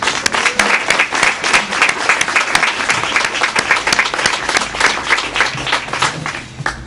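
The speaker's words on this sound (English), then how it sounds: "Let's all join in a special round of applause for the students who are here who helped out." An audience applauds student helpers at a house presentation, with dense, sustained clapping from a sizable group that stays loud and even throughout, with no voices standing out.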